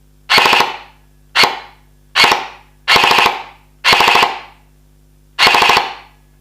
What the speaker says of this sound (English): So that sounds like a 5-shot burst.